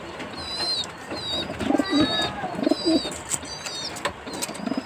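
Pigeons cooing close by, including a sick pet pigeon recovering from a rat bite, soft low repeated coos over a busy background with faint high chirps and squeaks.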